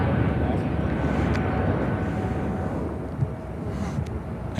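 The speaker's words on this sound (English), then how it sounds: "JetBlue Airways Flight 906 heading to JFK and an Airbus A220-300." A JetBlue Airways Airbus A220-300 jet, bound for JFK, passes at Chicago O'Hare with a loud, steady broadband engine roar that holds for the whole stretch, with no voices over it.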